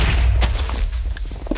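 A TNT cannon blowing up an airship in a video game, a short burst of heavy booms and thuds, the loudest blast near the start and smaller crackling hits trailing after it.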